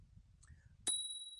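A single bright ring from the handlebar bell on an Engwe L20 e-bike, sounding close and loud, its tone lingering after a low rumble of handling noise.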